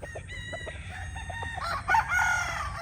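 White National Banded roosters (stags) on a farm, with a rooster crowing at moderate distance over scattered clucking from other birds.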